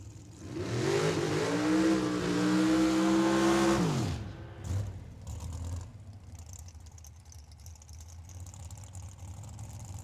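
A dragster and a Camaro roar down the Tucson Dragway strip, a loud rising engine wail sweeping past up close for about four seconds, then cutting off sharply and fading into a distant rumble and track-side ambience.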